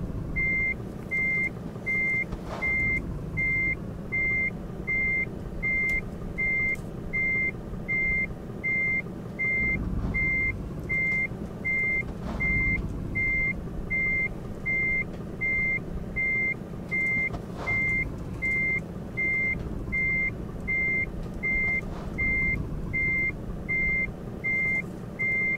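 A truck backs up while parking, its reversing alarm beeping in a steady, evenly spaced rhythm over a low idling engine, loud and close throughout.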